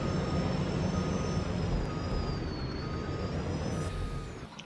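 An old truck engine runs with its jake brake stuck on, giving a steady, rough, loud drone with a faint high whine held throughout, close by and without speech, before it drops away near the end.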